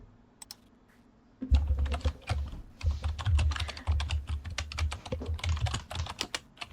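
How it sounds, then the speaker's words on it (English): Rapid typing on a computer keyboard, close and clear, with irregular bursts of key clicks after a brief quiet start. "I hear her typing."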